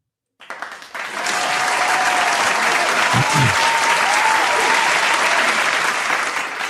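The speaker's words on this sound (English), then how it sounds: "Where are the claps?" A studio audience bursts into loud, sustained applause after a brief lead-in, a thick wash of clapping that stays full and even for several seconds with a few whoops rising within it.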